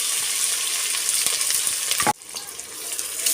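Onions sizzle loudly in hot oil in a pan with whole spices and curry leaves, a steady close frying hiss broken by a sharp stirring clink.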